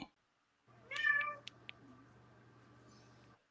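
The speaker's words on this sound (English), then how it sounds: "You got a cat?" A cat gives a single clear meow close by, followed by a couple of short sharp clicks over a faint low hum in an otherwise quiet room.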